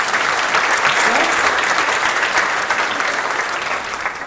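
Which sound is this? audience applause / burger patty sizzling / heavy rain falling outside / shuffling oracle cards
audience applause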